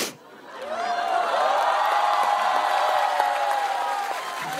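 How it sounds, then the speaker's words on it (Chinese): Audience applause in a theatre for a stand-up comedy stage show: a dense, steady wash of clapping that rises quickly after a brief voice, then holds loud and even throughout. "谢谢你的鼓掌啊。"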